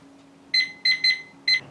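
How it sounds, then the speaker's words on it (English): A kitchen timer is set while apple hand pies bake, giving four short electronic beeps in an irregular pattern over a faint steady hum, close and fairly loud. "Let me set my timer."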